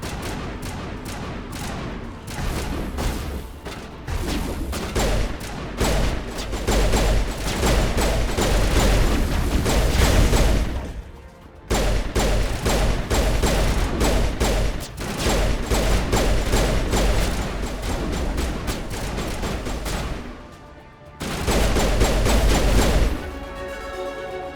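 Heavy gunfire in the Mass Effect video game, with dense rapid bursts of shots and mechanical clatter that run loud and close in long stretches, broken by two brief lulls, with no voices over them.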